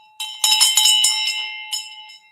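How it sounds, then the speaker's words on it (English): Bell rung by an eight-year-old child during a live real estate stream, a bright ringing clang struck several times in quick irregular bursts, loud and close with a lingering ring. "That's why you don't let 8-year-olds ring the bell."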